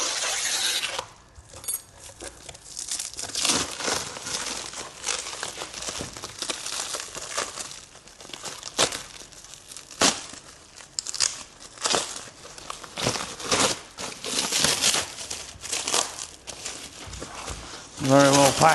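Packaging for new Land Rover Defender sumo steering bars being torn open, with continuous crinkling, rustling and tearing close up alongside someone talking throughout.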